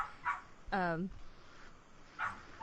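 A dog gives a single sharp bark at mid-distance, with short faint yips before and after, heard alone during a pause in conversation.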